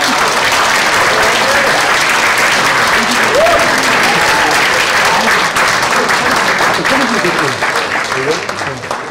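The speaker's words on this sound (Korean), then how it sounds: "박수로 환영해 주시죠." An audience at a youth talk-concert applauds steadily and loudly to welcome an arriving guest, a sustained wash of clapping from a large crowd lasting throughout, with faint voices underneath.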